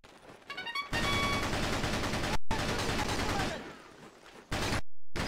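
Gunfire in the video game Battalion Wars, dense bursts of rapid shots in two long volleys separated by brief gaps, loud and close, with a few faint tonal blips and no voices.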